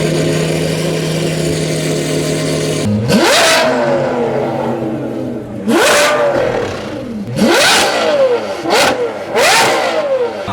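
A straight-piped BMW M4 F82 exhaust drones loudly at steady revs, then blips repeatedly in sharp, rising revs that fall away, close and dominant throughout.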